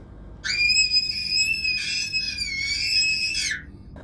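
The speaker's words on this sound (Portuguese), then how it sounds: "Outro grito de Daisy ecoou" A woman's prolonged, high-pitched scream in a dramatic audiobook scene, loud and sustained for about three seconds with a brief break midway, rising and wavering before cutting off, with no talk over it.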